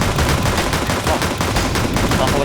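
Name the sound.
gunfire in the video game CS:GO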